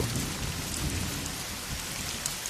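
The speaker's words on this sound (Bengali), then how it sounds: "বৃষ্টির টুপটাপ শব্দ আর ভেজা মাটির গন্ধ" Steady rain falls and patters on a surface, continuous and fairly close, with a low rumbling undertone throughout and no voices.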